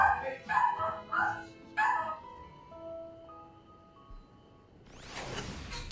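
Several quick dog barks and yips ring out in a Final Fantasy XIV: Endwalker game scene, then fade into sustained tones before a rushing swell of noise at the end; no one speaks.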